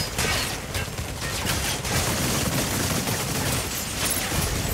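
Rapid mech gunfire in the game Mecha Break, dense continuous bursts of shots, loud and sustained with no talk.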